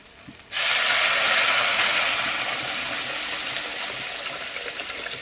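Water poured into a pan of sautéed potatoes erupts into a loud, steady hissing sizzle after a quiet start, then eases slightly while staying strong.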